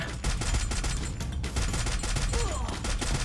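Rapid gunfire from the Free Fire video game cracks in quick, repeated bursts, loud and close, forming an almost continuous volley with little pause.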